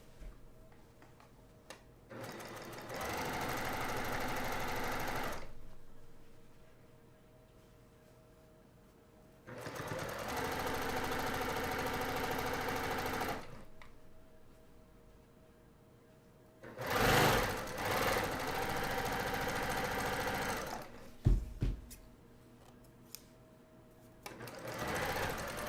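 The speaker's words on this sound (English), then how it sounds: "I'm going to sew a 1/4 inch seam with my long strip to the top" A sewing machine sews a 1/4 inch seam on felt for a gingerbread ornament, running in three loud, steady whirring bursts of a few seconds each with quiet pauses and small clicks between them.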